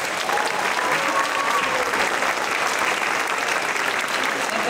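A concert audience applauds the bands after a school holiday band concert, a loud, dense, sustained burst of many hands clapping that fills the room without letting up.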